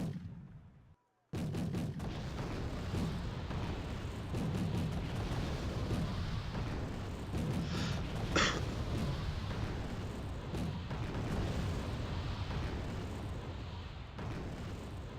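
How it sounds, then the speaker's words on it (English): Mortars in a tabletop-style wargame video game fire rounds in rapid succession, a dense continuous barrage of booms and blasts with no pauses, loud and close throughout. "Watch how fast they can fire off their rounds."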